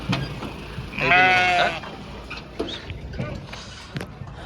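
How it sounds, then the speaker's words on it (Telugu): A large sheep at a livestock market gives one clear, loud bleat lasting under a second, with fainter bleats and crowd noise around it. "ఇవి కూడా పెద్ద గొర్రెలే చూడవచ్చు మొత్తం ఈ బ్యాచ్ అంతా"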